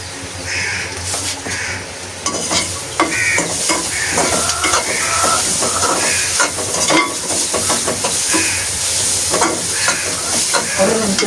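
Pepper roasts in a pan, stirred with a steady sizzle and frequent scraping and clinking of the utensil against the metal, loud and close, with crows cawing in the background.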